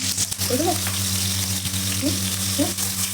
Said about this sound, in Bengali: এই তেলের মধ্যে আমি পেঁয়াজ কুচি দিয়ে নিলাম পেঁয়াজটাকে ভালো করে লালচে করে ভাজতে হবে